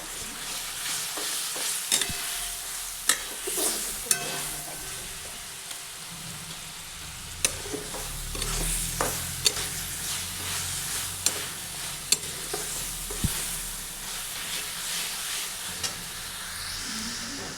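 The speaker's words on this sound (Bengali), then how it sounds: "এটিকে আরও কিছুক্ষণ ভাজবো" Onion paste frying with ginger-garlic paste and pasta masala while being stirred, a continuous loud sizzle with scattered scraping clicks from the spoon against the pan and no talking.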